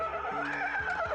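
A horse gives a short, wavering neigh lasting about a second, fairly close and clear, with faint low thuds underneath.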